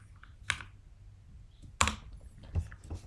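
Keys on a computer keyboard are pressed a few at a time in a quiet room. About four distinct, fairly soft keystrokes are spaced unevenly, the loudest probably being the enter key.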